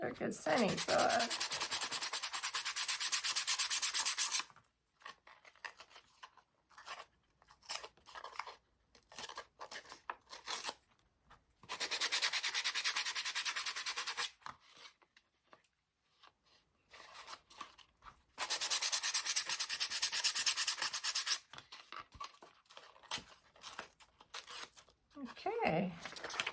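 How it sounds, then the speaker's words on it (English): Sandpaper scrapes along a paper edge in long, harsh bursts of rubbing, separated by quieter stretches with scattered small rustles and handling noises. "Not very good sanding"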